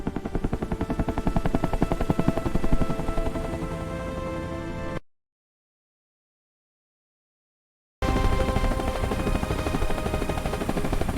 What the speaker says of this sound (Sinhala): හෙලිකොප්ටර් එකක් කවුද යන්නේ?